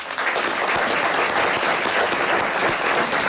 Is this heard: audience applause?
yes